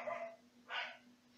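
Dogs bark in two short bursts, separated by a quiet gap. They sound moderately close against a steady low hum, with no talking.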